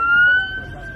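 A steady electronic ambulance siren wails close by, a sustained high tone holding for the whole second with a low rumble beneath.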